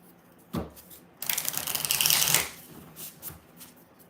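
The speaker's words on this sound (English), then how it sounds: "We're going to do 6 shuffles." A new, stiff deck of cards is riffle-shuffled up close: a single tap, then a long crisp ripple of cards, followed by softer bridging and squaring sounds.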